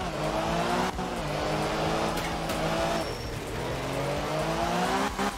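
A rally car in the video game Art of Rally drives hard, its engine loud and steady as it revs and climbs through gears, with a few brief changes in pitch and possible tire squeal.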